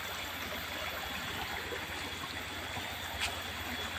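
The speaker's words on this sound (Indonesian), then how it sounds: "sungainya di bawah saya" A forest river flows below a bank in a flood-marked area, giving a soft, continuous rushing wash that stays even and fairly faint throughout.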